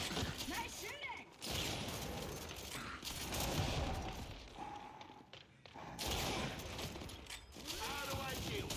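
Rapid gunfire and mechanical clatter from a video game battle come in dense bursts, with voices talking over the shooting throughout.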